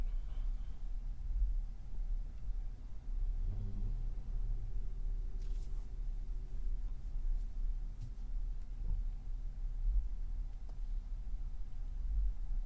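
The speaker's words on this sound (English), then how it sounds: "And we are in congested traffic also." Low, steady road rumble inside a car stuck in congested Washington, DC traffic, with a faint passing engine whine in the middle and a few light clicks; no talking.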